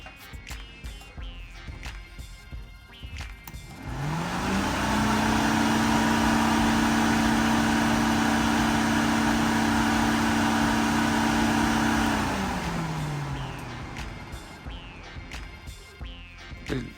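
An SN95 Mustang electric cooling fan wired straight to 12 volts spins up with a rising whir, holds a loud steady hum for several seconds, then winds down, with quieter shop noise before and after.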